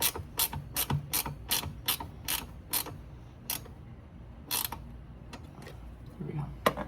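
Ratchet tightening a bolt on a Porsche 924S windshield wiper motor gives a quick run of crisp, close clicks. It pauses, then a few more clicks follow, over a quiet background.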